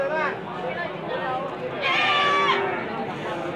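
A Sumbawa goat bleats at the Gondanglegi livestock market in Malang, a wavering nasal cry rising in the middle, close and loud over a dense background of crowd chatter and market noise.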